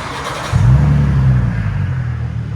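A 2011 Ford Mustang V6 convertible with factory-style exhaust tips rumbles at idle, then swells into a deep, steady, loud drone for about a second before settling back to a low idle rumble.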